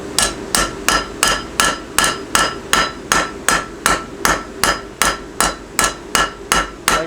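A hammer strikes a hot knife blade's edge on an anvil in a steady, even rhythm, about two ringing blows a second, sharp, loud and close, sixteen or so strikes with no voices.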